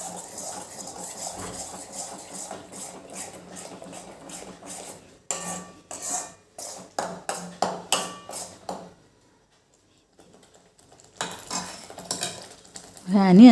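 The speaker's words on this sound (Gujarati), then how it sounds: "એક વખત આને મિક્સ કરી લેવાનું।" Spices being mixed in a cooking pan, with a run of close metallic spoon scrapes and clinks against the pan in irregular strokes, a quiet gap, then more clinking, with some voice faintly underneath.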